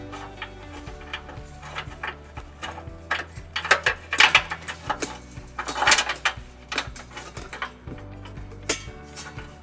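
Ratchet and metal clicking as the larger hitch bolt goes in on the driver's side of a 2016 Honda Fit during a trailer hitch install, close, with rattling clusters and a low hum beneath.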